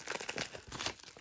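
Close, rapid crinkling of the aluminum foil wrapper around a pack of NFL football trading cards, with rustling bursts in quick succession.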